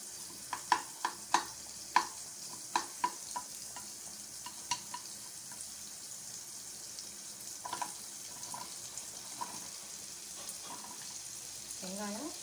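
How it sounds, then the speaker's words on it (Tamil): Onion, ginger and garlic sauté in melted butter in a pan, giving a soft, continuous sizzle with a few sharp clicks near the start and faint scraping later, quiet and close, with no voices. "பட்டர் நல்லா மெல்ட் ஆனது நம்ம இதெல்லாத்தையும் சேர்த்து வதக்கி அரைச்சிக்கணும்"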